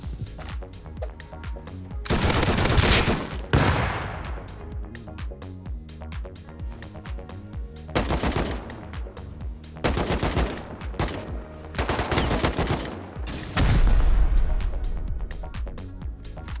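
Bursts of automatic gunfire in the survival game Rust during a raid defense on an iceberg base, loud rattling volleys separated by short lulls, with several long sustained sprays.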